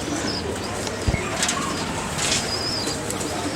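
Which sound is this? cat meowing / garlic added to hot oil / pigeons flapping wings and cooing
pigeons flapping wings and cooing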